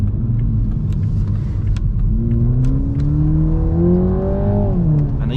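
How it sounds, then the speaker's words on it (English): A 2021 Toyota Supra 2.0 with 258 hp accelerates hard, its engine rumbling and rising in pitch, with sharp intermittent exhaust pops and burbles over the steady drone. "Nice pops and burbles from the back."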